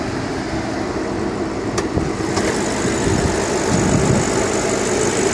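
A BMW Alpina B6 Gran Coupe xDrive with a twin-turbo 4.4-liter V8 idles steadily under the open hood, a loud, close, even engine rumble with no talk.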